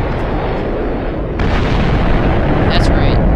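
A nuclear missile blast from the Voltz railgun mod in a video game, a deep rumbling roar that swells partway through and keeps booming loudly to the end.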